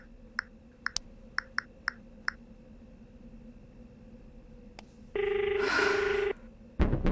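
A telephone rings indoors: a few short faint clicks, then a loud electronic ring tone for about a second, followed by another burst of sound.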